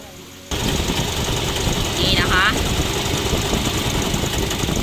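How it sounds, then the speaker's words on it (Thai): A steady loud mechanical whir and hum from a faulty Nissan Almera radiator fan with wobbling blades, droning continuously with a vibrating rattle after it switches on. "พัดลมหม้อน้ำนะคะ มีอาการเสียงดังนะคะ แล้วก็สั่นนะคะ"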